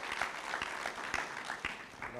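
Audience applause during a chat event, soft and somewhat distant clapping from a small group, a quiet, rough patter with a few sharper claps and no clear talking over it.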